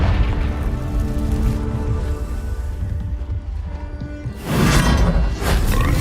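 Hogwarts Legacy's Confringo spell goes off as a heavy low rumble, then a loud bursting boom near the end.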